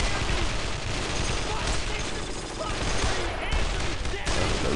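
Gunfire in the video game Brothers in Arms: Road to Hill 30, a dense continuous fusillade of battlefield shots filling the whole stretch at steady loudness.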